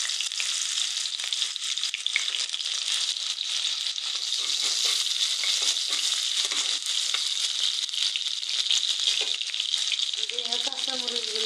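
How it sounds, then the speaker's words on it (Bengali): Chopped onions hit hot oil in a curry pan, giving a loud, steady crackling sizzle that continues throughout with faint stirring sounds near the end. "এখন আমি পেঁয়াজ কুচি দিয়ে দিচ্ছি।"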